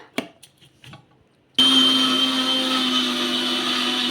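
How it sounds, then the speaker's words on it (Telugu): After a few soft clicks and handling sounds, a mixer grinder blending Parle-G biscuits with sugar starts abruptly and roars on as a loud, steady, high-pitched whir. "ఇప్పుడు ఇది కూడా మిక్సీ పట్టేసుకుందాం"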